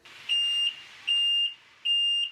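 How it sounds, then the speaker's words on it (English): Three evenly spaced electronic beeps from a golf cart's reverse warning, each about half a second long, a high steady tone repeating. "I still had to get that reverse beeping turned off"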